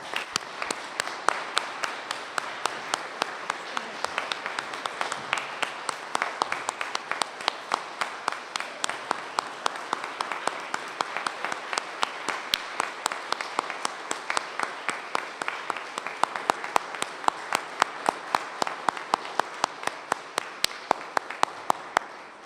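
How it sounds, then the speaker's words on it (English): Sustained applause from an audience honouring award recipients at the 2022 Order of Prince Edward Island investiture ceremony, dense steady clapping filling the hall for over twenty seconds with no talk. "Please give them a round of applause."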